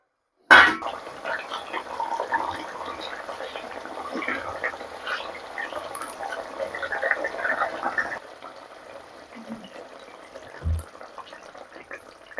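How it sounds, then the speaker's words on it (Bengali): Fish pieces go into a simmering coriander curry: a sharp wet plop opens, followed by continuous bubbling and liquid sloshing in the pot, with a voice speaking over it before the sound quiets. "তো মাছগুলো আমি দিয়ে দিচ্ছি।"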